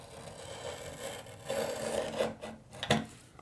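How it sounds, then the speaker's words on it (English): A knife blade trims the top of old silicone caulk along a bathtub edge, giving close, soft rasping scrapes that build in strength over a few seconds, with a sharper stroke near the end. "you want to cut, not the whole thing, just cut the top part of the silicone off."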